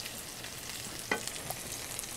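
Fresh ginger sizzles in a hot pan, a faint steady frying hiss with one brief sharper crackle as it goes in, no voices.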